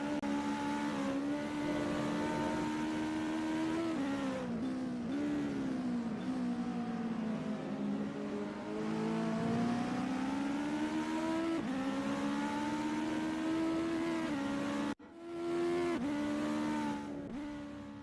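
A race car at full pace in a qualifying session of the SRA 2025 Legends series, its engine note droning loud and steady with rising and falling pitch through gear changes, a brief cut near the end, and no voices.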